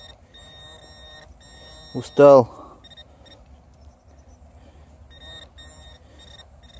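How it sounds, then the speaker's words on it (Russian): A metal detector sweeping for old Roman coins in a European field gives thin, steady electronic tones throughout, with a brief spoken word cutting in near the middle. "Снова где-то пищит."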